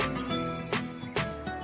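An empty clay toy whistle, modelled on Harappan toys, is blown in short bursts close by, a thin high-pitched tone with breathy onsets, two or three toots in quick succession.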